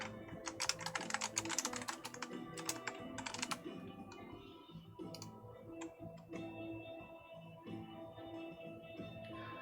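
Typing on a Moonlander computer keyboard: a dense run of quick clicking keystrokes for several seconds, then sparser taps over a faint steady hum, quiet and close.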